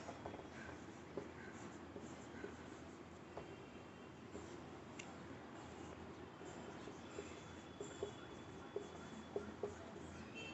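Marker writing on a board during a maths lesson, faint scratchy strokes and taps in short bursts against quiet room noise.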